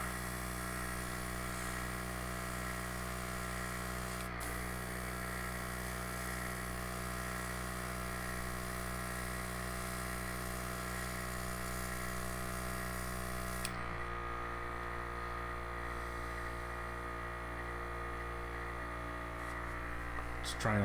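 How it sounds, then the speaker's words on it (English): An airbrush compressor set to about 15 psi hums steadily while thin layers of paint are sprayed onto a miniature. The close, constant droning tone runs throughout and changes character slightly near the end. "I think I kicked the compressor up to 15 psi now, so it might be a bit different, but same idea."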